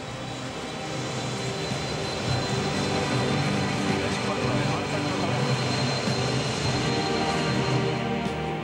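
A steady, loud rumbling drone of a train pulling away from Wannsee station on the Berlin-Potsdam line, continuous and unbroken for the whole stretch, with a faint high whine above.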